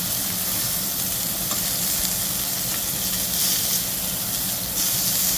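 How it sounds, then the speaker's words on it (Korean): Cold pork belly slices sizzling on a grill at a Korean barbecue restaurant, a loud, dense, continuous close crackle and hiss filling the whole stretch. "지글지글 맛있게 익어가고 있습니다."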